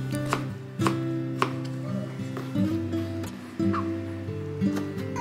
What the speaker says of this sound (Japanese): 生姜とニンニクはみじん切りにします